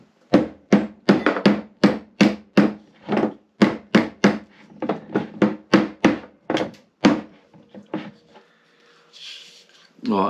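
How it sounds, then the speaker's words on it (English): A small hammer taps a part of a beer engine hand-pull pump during a refurb in a garden pub shed: about two dozen sharp, close knocks in a brisk rhythm, thinning out toward the end. "A small hammer on that."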